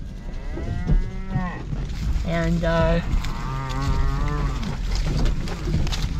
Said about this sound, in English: I don't want to move, I don't want these cows to get too far ahead.